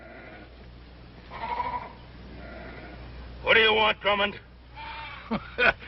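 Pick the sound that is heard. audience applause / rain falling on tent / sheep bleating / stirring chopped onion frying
sheep bleating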